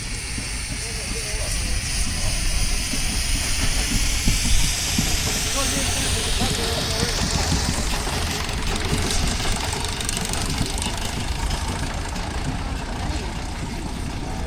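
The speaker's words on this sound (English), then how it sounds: "there's a Super Sentinel going past" Steady, loud hissing and rumbling of a 1930-built Super Sentinel steam wagon passing close by at a steam rally, a continuous mechanical chuffing texture with a broad whoosh throughout.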